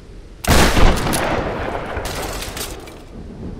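A shotgun blasts in the Tomb Raider video game: a sudden loud report at the start, then a sustained crackling, roaring tail, followed by a second burst of broadband noise about halfway through.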